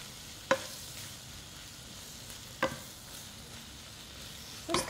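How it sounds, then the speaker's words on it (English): Spinach wilting in a hot pan with chorizo, a soft steady sizzle under a few sharp knocks of a utensil against the pan, quiet and close. "I'm just going to let that reduce down in the heat of the pan"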